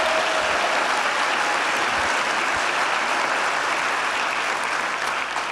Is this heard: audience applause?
yes